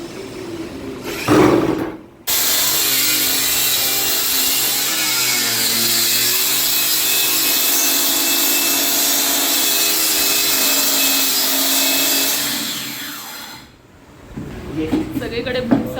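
Power saw cutting through wood during home carpentry work, a steady loud whine lasting about twelve seconds with brief pauses before and after, alone without talk over the cut.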